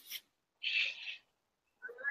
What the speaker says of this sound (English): I apologize if you hear them meowing in the background.